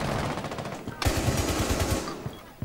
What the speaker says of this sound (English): I shot it through reinforcement.